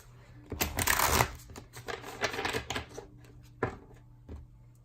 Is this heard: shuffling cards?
yes